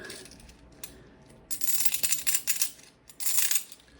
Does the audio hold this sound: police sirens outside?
no